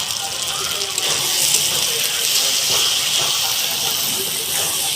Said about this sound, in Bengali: দিয়ে আমি আর একটু কষিয়ে নিলাম।